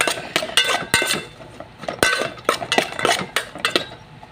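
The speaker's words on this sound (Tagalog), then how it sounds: "Mix natin ang sitaw." String beans (sitaw) are stirred in a pan with a utensil, producing a rhythmic series of close, bright metallic clanks and scrapes, roughly a dozen hits, with no voices.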